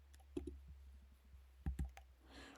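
Faint, sparse clicks from a computer mouse while working in the Canva editor: a pair of quick clicks early on, then another close pair, isolated and quiet against low room hum.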